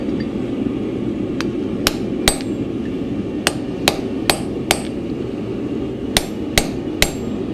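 A hammer flattens a heated metal door latch with about a dozen sharp, ringing blows in uneven groups over a steady low background rumble, up close.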